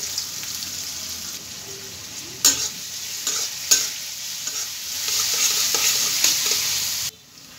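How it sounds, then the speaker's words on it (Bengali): Onions and green chilies frying in a pan with garlic, a constant loud sizzle broken by several sharp scraping knocks of stirring, ending abruptly. "পেঁয়াজ কাঁচামরিচ ভেজে নিব"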